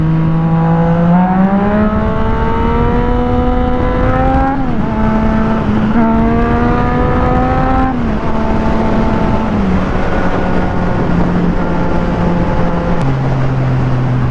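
A Yamaha FZ09 motorcycle engine drones steadily and loudly throughout, its pitch rising and falling in repeated swells as the throttle is worked, with short dips where revs drop before climbing again.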